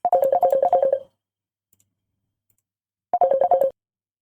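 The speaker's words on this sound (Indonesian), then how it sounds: "Sebentar, ada telepon, maaf." Phone ringtone sounding during a screen-recorded lesson: two short bursts of rapid warbling tones about two seconds apart, clear and close with silence between.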